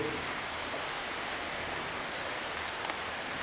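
Steady rain falls outdoors, a dense continuous hiss of drops that stays loud and even throughout with no voices over it.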